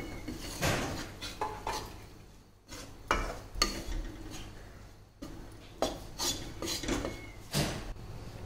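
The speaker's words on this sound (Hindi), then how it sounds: "इसको हमने घी में ही भूनना है" Wheat flour, about two cups, roasts in ghee in a pan on low heat, and a spatula scrapes and stirs it in repeated rough strokes over a soft, faint sizzle, with no talk.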